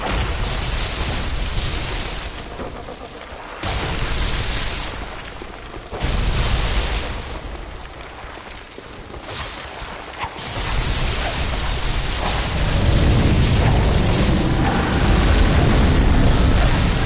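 Explosion attacks in Bloodborne, heavy booming blasts that surge and fade in long loud waves, with a sustained rumbling roar building toward the end.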